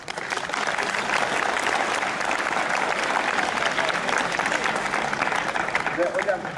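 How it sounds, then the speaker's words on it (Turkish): An audience at a ceremony honouring students who helped earthquake victims gives loud, sustained applause, a dense crowd of clapping hands that holds steady throughout, with faint murmurs beneath. "Çok kuvvetli bir alkış istiyorum."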